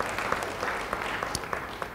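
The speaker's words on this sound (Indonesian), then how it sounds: "Beri tepuk tangan bagi dia, haleluya." Church congregation applauding after a sermon line, a steady wash of clapping with scattered sharper claps throughout, moderately loud and continuous for the whole span.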